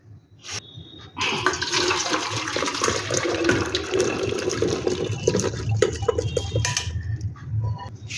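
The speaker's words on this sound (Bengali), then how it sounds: "এবারে এটাকে আমি ছেঁকে নেব" Boiled chickpeas and their cooking water poured through a strainer, a loud continuous rush of draining liquid lasting several seconds after a brief start, close by and with no voices.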